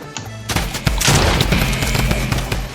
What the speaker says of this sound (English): They carry drum guns.